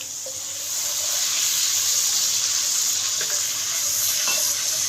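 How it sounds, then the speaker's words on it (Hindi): Steady bright sizzle of red chilies frying in oil after a splash of water goes into the pan, a continuous hiss with faint clinks of stirring, no voices. "इसमें थोड़ा सा पानी डालूंगी"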